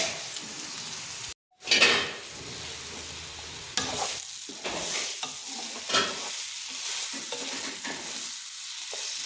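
Potatoes fry in a pan of khichuri with rice and green chilies, a constant bright sizzle broken by scraping stirs and a brief silent cut near the start, close and with no talking.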